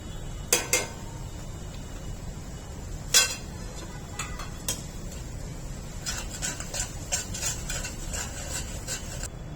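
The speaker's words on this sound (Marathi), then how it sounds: "आता तेलामध्ये आपण सर्व मसाले घालून घेऊया" Spices for a crisp corn poha chivda go into hot oil in a pan and are stirred, with a faint background sizzle and repeated metallic clinks and scrapes of a spoon against the pan.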